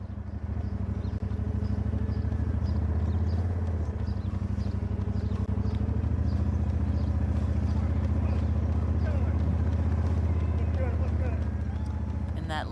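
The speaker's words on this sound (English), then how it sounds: "That lead motorbike, I can tell you it's a sweet sound." A steady, loud engine drone of a lead motorbike riding close alongside a cyclist in a triathlon race, with no pauses and faint road noise mixed in.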